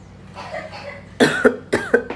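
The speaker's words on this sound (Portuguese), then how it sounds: "Uma tosse seca que não passa, que não passa." A child's persistent dry cough: a quick series of about five short, harsh coughs in close succession, loud and near, after a quieter stretch of indistinct background sound.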